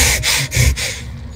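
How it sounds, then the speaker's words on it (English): In a video game, a console gets repaired with a screwdriver as three loud, close rasping strokes in quick succession, then a fading scrape. "You gotta fix the console with your screwdriver."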